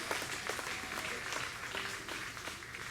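Audience applause fills a folk concert at Abbotsbury, a steady, dense wash of clapping from a sizeable crowd, fairly distant and even throughout with no voices rising above it.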